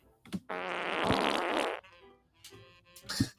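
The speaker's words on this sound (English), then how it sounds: "There's a Christmas fart right there." A long, loud, buzzing fart lasting over a second, close to the mic, with a few short rustles and bumps before and after.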